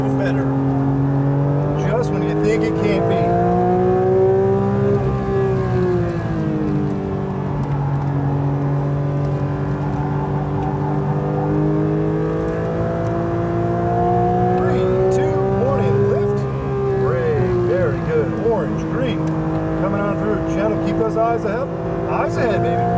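A Porsche 992 GT3 accelerates on a race track, its loud engine note climbing and falling through the revs. The sustained, close roar runs throughout.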